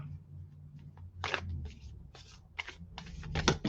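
Uneven bursts of papery riffling and clicking, like cards shuffled clumsily up close, with short pauses between the flurries.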